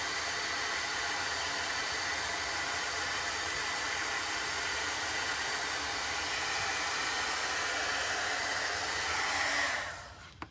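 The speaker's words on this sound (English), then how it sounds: "We're gonna take the dryer and we're gonna dry that 1" A hair dryer blows steadily and loud at close range while drying a chalk transfer, a constant whooshing roar that holds for about ten seconds before cutting off.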